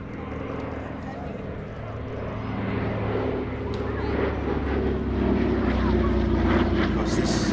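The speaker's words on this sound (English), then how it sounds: "The Douglas C-47 or DC-3," A Douglas DC-3 Dakota (C-47) propeller aircraft at an air festival drones steadily with a low, rumbling piston-engine hum that slowly builds, while an announcer talks over it.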